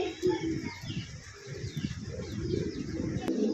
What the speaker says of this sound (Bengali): বিগ সাইজের একজোড়া ইয়েলো কালার লাহোরি কবুতর